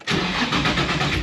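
A supercharged Nissan 350Z engine cold-starts with a short crank that catches into a loud, steady rumble heard up close, with no talking.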